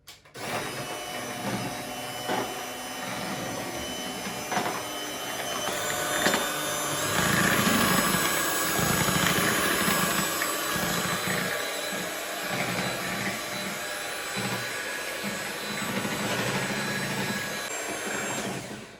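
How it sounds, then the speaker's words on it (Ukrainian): Steady loud whirring of an electric hand mixer whipping cream for a honey cake (medovik), running continuously for the whole stretch with slight changes in pitch as the beaters move through the bowl. "І будемо збивати наш крем міксером"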